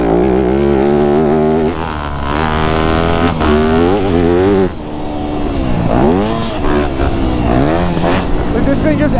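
A Yamaha YZ250F dirt bike on a dry, dusty, slippery track revs hard and close, its engine pitch climbing and falling as it pulls out of corners.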